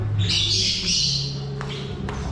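Pet birds in a breeding cage let out harsh squawks close by, with a burst of scratchy calls followed by a few shorter chirps against a low background hum.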